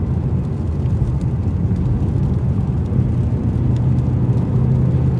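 A Mazda 3 compact hatchback accelerates hard at speed, its steady engine drone and road rumble loud and continuous from start to finish with no talking.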